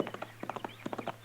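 Horse hooves clip-clop in a Western radio drama as a rider arrives, a quick uneven patter of light knocks at moderate distance over a faint steady hum.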